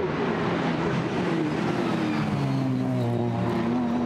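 GT4 race cars roar past at Zolder circuit, a loud, close, continuous engine drone with pitch sliding down as they pass, no voices over it.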